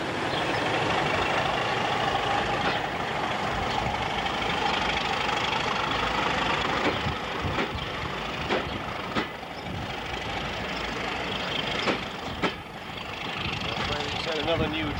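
A diesel freight locomotive idles at a station platform with a steady heavy drone and a few sharp knocks, while someone talks over it.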